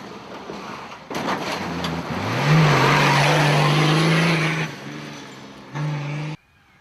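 The B&B Racing Nissan Patrol off-road truck roars through a fairly fast section of a Winch Truck Challenge stage, its engine rising to a loud sustained rev, then cutting off with a brief final burst, up close and without talk.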